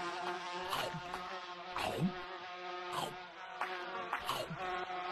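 Buzzing bees in Gorilla Tag drone close by, a steady whining hum with several swooping passes that rise and fall in pitch.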